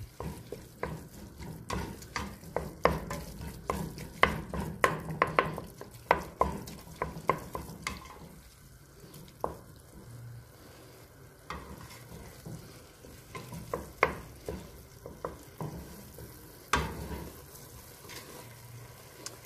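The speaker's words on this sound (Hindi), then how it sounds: "जब तक ऑयल ना छूट जाए तब तक हम इसको भूनते रहेंगे" Minced beef with tomato paste, salt, chili and turmeric is sautéed and stirred in a pan, with frequent scraping and clattering strokes over a soft, quiet sizzle.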